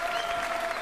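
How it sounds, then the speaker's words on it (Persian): Studio audience applauding during a televised quiz contest between generational teams, a dense steady wash of clapping that fills the whole moment with no talk over it. "به افتخارشون دست بزنید"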